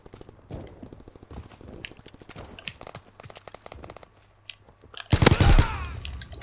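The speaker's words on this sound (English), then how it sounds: "Can hear some gunshots" Rapid bursts of distant gunfire crackle in a WW2 video game, scattered small-arms shots giving way to a loud, close volley near the end.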